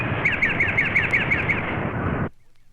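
Eastern phoebe song, a quick series of repeated high chirping notes in a steady rhythm over a loud broadband background that cuts off abruptly, leaving near silence.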